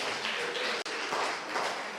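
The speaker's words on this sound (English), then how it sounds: "So give yourselves a round of applause." A room of attendees at a youth program launch press conference applauds, a continuous even wash of clapping with a brief dip midway, moderately loud and fairly close.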